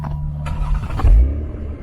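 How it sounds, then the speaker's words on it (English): A 2020 Toyota Avalon TRD, warm-started, idles low, then catches and revs briefly with a deep exhaust rumble, heard from behind, close by and fairly loud, settling back to a steady idle. "let's come around the back and hear that exhaust one more time, starting up"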